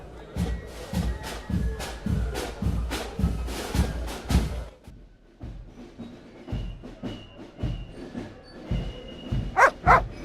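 A dog in the video game Broken Sword 2.5 barks steadily in a rhythmic run of loud, close woofs, pausing briefly midway before more barks and a few sharper yips at the end.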